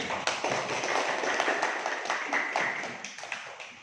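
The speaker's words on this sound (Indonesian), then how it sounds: "Beri aplaus dulu untuk kelompok 1" A classroom group of students clapping in applause after a group presentation, a steady moderately loud patter of many hands that thins slightly toward the end.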